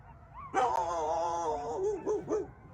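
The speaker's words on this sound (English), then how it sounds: "Listen, you can hear the coyotes in the distance." Coyotes howling in the distance behind a house near the woods, a sustained wavering canine howl with rising and falling pitch that breaks into a few short yips at the end, heard faintly with no talking.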